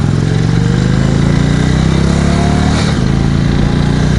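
A 2016 Indian Springfield motorcycle with its 111 V-twin engine roars loudly and up close, its pitch rising steadily as it accelerates through the rev range, with no talk over it.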